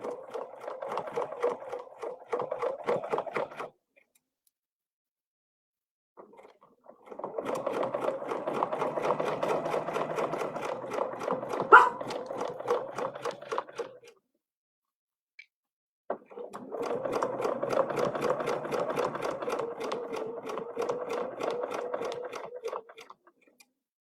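A sewing machine stitches around a Bell & Winding Way quilting template in three steady runs of rapid needle clatter, separated by short pauses, close and fairly loud with no talk.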